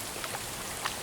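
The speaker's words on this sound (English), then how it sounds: "Rain, rain, come to play." Steady rain during a thunderstorm, a dense even hiss with a few distinct drops pattering through a short stretch.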